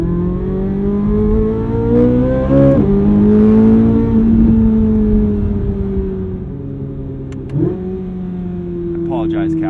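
A high-revving flat-plane V8 engine in a 2023 Chevrolet Corvette Z06 climbs and shifts repeatedly toward 8,600 RPM, loud and close, with a smooth rising pitch through each gear.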